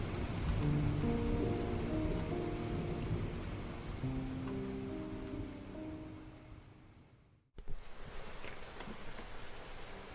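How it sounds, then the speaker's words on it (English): Heavy rain pounds pavement as wind howls through narrow alleys in a radio drama effect, a steady dense roar with low rumbling layers that drops out briefly near the end before resuming at full strength. "the sound of heavy rain pounding against the pavement, wind howling through narrow alleys"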